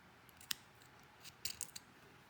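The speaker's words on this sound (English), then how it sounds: "Really need some new scissors." Several quick, sharp snips of scissors during a coil build for a Smok TFV12 Prince RBA vape tank, faint and close, with a brief pause between the first cut and a cluster of snips that follows.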